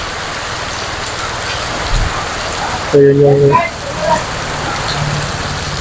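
Steady rain pours outdoors where a man is getting drenched, a constant broadband hiss filling the whole stretch, with a voice talking over it.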